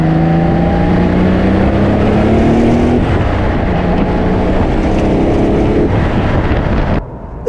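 A 1989 Porsche 911 Turbo Targa with five-speed gearbox pulls hard while driving, its engine note rising through several revs in loud, close bursts before cutting off abruptly near the end.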